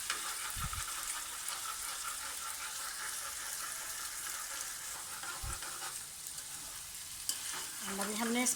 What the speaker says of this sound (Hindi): अंडा भी हमने इसमें मिक्स कर दिया।